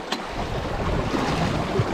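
Sea waves wash around a small fishing boat off the Scottish coast, a steady close, rushing surge mixed with gusty wind buffeting the microphone, with no one talking.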